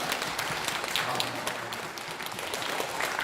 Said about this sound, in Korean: 다 같이 박수 한번 드리겠습니다